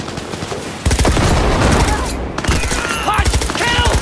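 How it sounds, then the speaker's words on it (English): Rapid bursts of gunfire rattle through a firefight in the video game Cyberpunk 2077, loud and dense for several seconds, with voices speaking between and over the shots. "Heard shots."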